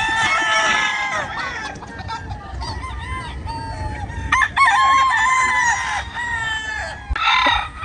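Gamecocks crow at a game farm in San Ildefonso, Bulacan. Several loud, close crows overlap with clucking, and the calls rise and fall in repeated bursts with no one talking.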